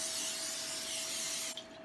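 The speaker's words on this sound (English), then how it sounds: "I'm going to give it another quick little spray." Cooking oil sprayed over egg rolls in an air fryer basket: a steady hissing spray lasting about a second and a half, close and fairly loud, then cutting off.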